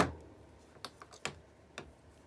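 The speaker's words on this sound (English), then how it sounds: "what I'm going to do now is take some wire and just cut off" Sharp metallic snips of craft wire being cut with a hand tool, a few separate clicks spaced apart in a quiet room, close and fairly faint.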